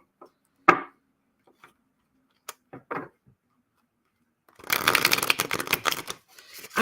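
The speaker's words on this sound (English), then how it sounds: "I'm shuffling these cards really good" A deck of tarot cards is shuffled at close range, with a few sharp card taps and flicks followed by a dense, continuous riffling burst that runs for about two seconds.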